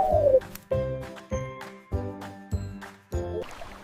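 Pigeon cooing in several evenly spaced phrases, fairly close and clear, each coo rising then fading, with brief bright chiming tones sounding between them.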